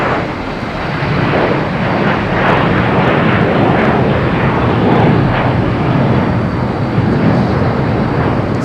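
A Spirit Airlines or JetBlue jet airliner at Boston Logan Airport gives a loud, steady, broadband engine roar that holds for several seconds with no voices.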